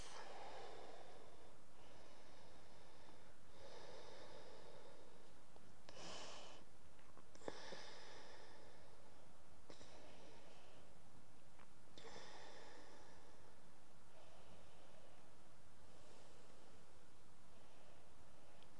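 Slow, deep breaths during a yoga pose, close and soft, several drawn-out inhales and exhales in an otherwise quiet room.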